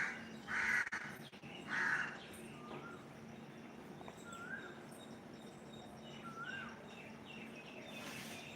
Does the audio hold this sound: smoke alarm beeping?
no